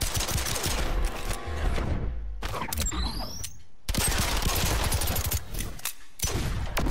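Dense bursts of video game gunfire from the Injustice fighting game, rapid loud shots and impacts in two long volleys split by a short gap with ringing effects, all close and continuous.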